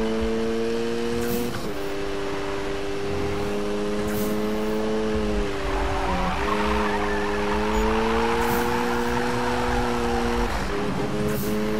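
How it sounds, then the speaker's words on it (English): A Mazda RX-7 drifting in a video game, its engine droning steadily and shifting pitch through gear changes while the tires squeal continuously throughout. "Just drifting through here."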